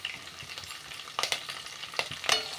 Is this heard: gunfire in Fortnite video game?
no